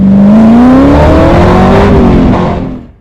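A carbureted-style engine fitted with Holley Sniper EFI revs hard under acceleration, a loud close rising roar whose pitch climbs smoothly, then fades away near the end, with no voices.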